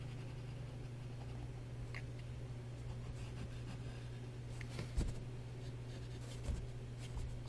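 A pen or pencil scratches out number lines by hand on paper, soft faint strokes and taps over a low steady electrical hum, with no talking.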